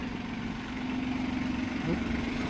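A tractor engine drones steadily while driving out with a plough, a constant low mechanical hum that holds evenly throughout with no talk.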